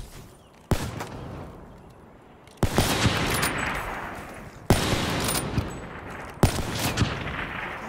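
Four loud, sharp gunshot bursts ring out a second or two apart in a one-on-one shooter video game, each followed by a decaying echoing tail, with no talking.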